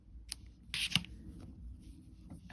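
Scissors snipping a knitting yarn tail close by, a couple of quick, crisp cuts amid light rustling of yarn and handling.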